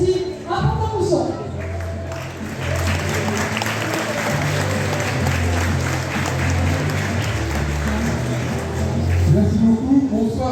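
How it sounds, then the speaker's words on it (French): Steady applause from a large crowd at a sports awards ceremony, dense and sustained throughout, with a musical tone underneath and a little cheering mixed in. "vos applaudissements s'il vous plaît pour cette équipe PCVA"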